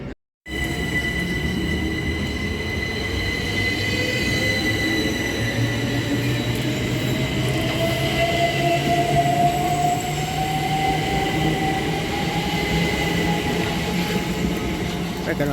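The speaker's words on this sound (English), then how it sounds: "going out there is the 1624 service to Ramsgate, 375704 at the rear" Class 375 electric train 375704 pulling out of Chatham station on the 1624 service to Ramsgate, with a loud, steady rumble of wheels and motors and a rising whine as it gathers speed, close by and without a break.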